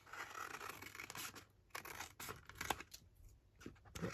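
Scissors or a blade cut across a scrap of master board, giving a run of close, crisp scratchy snips and tearing rasps in uneven bursts, with no talking.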